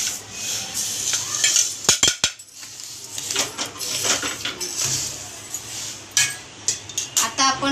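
Roasted lentils (dal) scraped from a pan into a wide plate: repeated metallic scraping and rubbing with several sharp clinks of a utensil against cookware, close and moderately loud, no talking.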